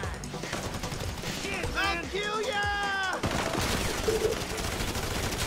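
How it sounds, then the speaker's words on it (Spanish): Rapid bursts of Grand Theft Auto V gunfire crackle continuously, mixed with explosions and a player talking in Spanish over the dense action. "Espérate que me están disparando por la espalda"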